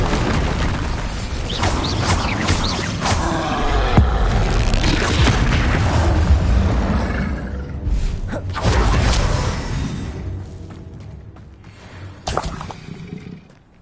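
Spell explosions boom and burst during Hogwarts Legacy gameplay, loud rumbling blasts layered over one another, easing off toward the end with a final sharp pop.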